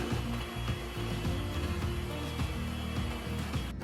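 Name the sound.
electric mixer beating eggs with sugar for chocolate cake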